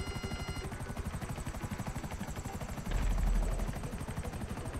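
Helicopters in a GTA 5 Online mission, a fast steady rotor chop thudding continuously with a turbine whine above it, swelling louder for a moment midway, with no talking.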